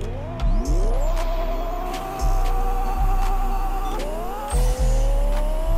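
Race car engine in the Pixel Car Racer video game, an R34 against an R35, revving hard through rising gear pulls with quick dips at each downshift and a steady loud drone, no talking.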